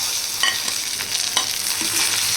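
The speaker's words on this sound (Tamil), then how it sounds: "தக்காளி உள்ளே போட்டு நல்லா வதக்கி விட்டுக்கலாம்" Tomatoes sautéing in a pan for mutton curry: a steady broadband sizzle with a few light scraping stir strokes from a spoon against the pan, close and moderately loud, no talking.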